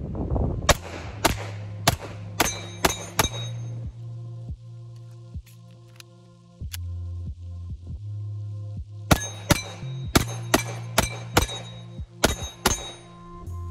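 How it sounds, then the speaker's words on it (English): Pistol shots from a handgun fitted with an Icarus Precision ACE 320 X-Carry frame, fired outdoors in wind. Two rapid strings of loud, close cracks are split by a quieter stretch of scattered single shots. "let's load some more magazines and shoot some more"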